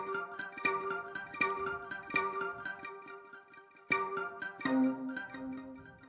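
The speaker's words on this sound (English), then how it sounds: "Toy Keys plays the same pattern but adds a little arpeggio" Toy Keys preset from Native Instruments Hypha playing a short repeating pattern with a little arpeggio, bright plucked notes struck in small clusters, with a reverberant, effected decay and a pause before the pattern resumes.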